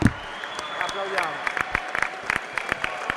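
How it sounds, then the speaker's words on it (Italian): Applause for basketball coach Meo Sacchetti rings out in an arena: a scattered, rhythmic patter of hand claps from a crowd, steady and moderately loud, with an announcer speaking over it. "facciamo partire l'applauso"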